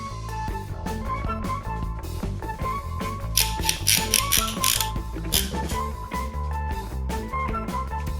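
Quick-action F-clamps are ratcheted tight around a three-way mitre joint, producing a close series of crisp mechanical clicks and clacks, with brief bursts of metallic rasping partway through. No one speaks.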